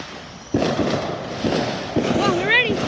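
Fourth of July fireworks burst in a backyard display, several sharp booms and crackling pops one after another with a whistling rocket near the end, loud and close.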